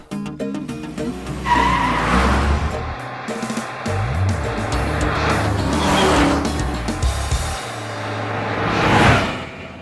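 A car in a dubbed Kannada action film lurches after a jolt, with engine roar, tire noise and skidding swells across the scene, loud and close, accompanied by dramatic music.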